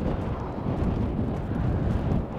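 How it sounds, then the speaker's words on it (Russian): Strong side wind during a sea storm at the Vityazevo shore near Anapa, a continuous loud blustery roar buffeting the microphone, with no voices. "Причем ветер боковой, так жестко дует."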